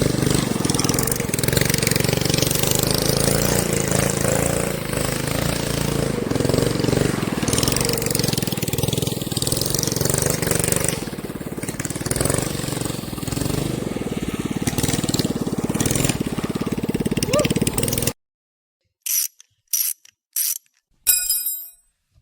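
Go-kart built from a moving dolly and powered by a 7 hp pressure washer motor, running with a loud, rattling mechanical whir for most of the stretch, then cutting out to silence broken by a few short bursts.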